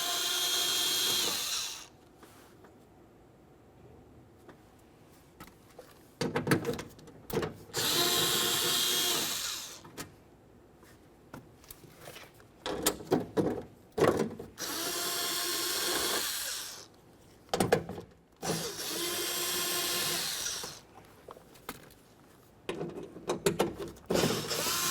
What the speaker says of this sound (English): continue on to your 6 10mm headed mounting bolts